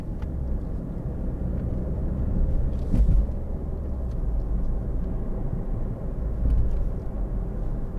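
A 2013 Ford Focus 1.6 TDCi ECOnetic diesel rounds a roundabout, heard from inside as a steady low engine and road rumble with gentle swells in loudness and no talking.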